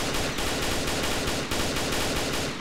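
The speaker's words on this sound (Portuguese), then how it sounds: "Dá um tiro na janela, o Lajota, quer ver?" Rapid automatic gunfire from the online shooter game Combat Arms, sustained bursts of shots aimed at a window, loud and dense with steady rhythmic pulses and no talking.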